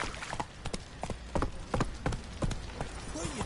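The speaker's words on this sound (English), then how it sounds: "Whoa there, Roach. Go, go." A horse gallops in The Witcher video game, quick rhythmic hoofbeats thudding close and fairly faint, with a short voice sound near the end.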